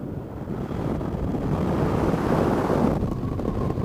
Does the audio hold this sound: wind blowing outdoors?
yes